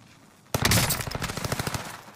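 Rapid automatic gunfire in Warzone, a dense burst of shots starting abruptly and continuing for over a second, loud and close with no talking.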